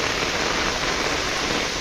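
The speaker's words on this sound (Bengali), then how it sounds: "তো বৃষ্টি হচ্ছে মুষলধারে" A dense, steady roar of heavy rain pouring down on a rooftop garden, continuous and close, with no other sounds standing out.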